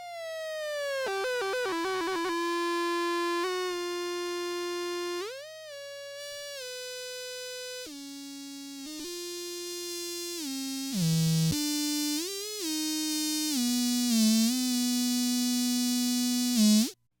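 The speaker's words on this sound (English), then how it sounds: "So now I have the feedback sound coming through." Feedback loop from a Mackie 402-VLZ3 mixer through a Boss MT-2 distortion pedal and DD-6 delay, a loud continuous whining, buzzing tone that shifts pitch in steps and sweeps, with a steady low hum underneath and no talking.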